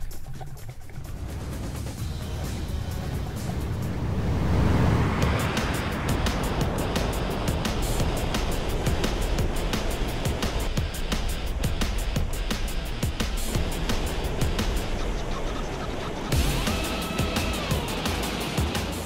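A fast, powerful river in flood at high water, flowing over normally dry ground. The roar is loud, steady and broadband throughout, like heavy surf, with no voices.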